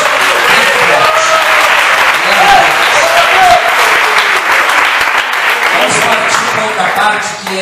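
A church congregation applauds loudly and continuously, a dense wash of clapping from a full room that keeps up for several seconds with a voice faintly mixed in.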